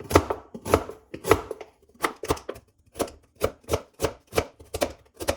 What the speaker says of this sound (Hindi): अब ये गाजर काट लेंगे इसी तरह।